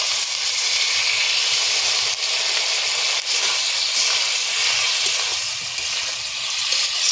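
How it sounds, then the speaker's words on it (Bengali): A little water hits a hot pan of egg curry being fried, giving a loud, continuous steamy hiss and sizzle that holds steady throughout, with no voices. "ভালো করে কষিয়ে নেব একটু জল দিই"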